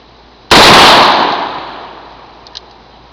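A single loud, sharp gunshot from a Ruger Super Redhawk or Super Blackhawk revolver fired outdoors, the close crack decaying over about a second, followed by a faint click.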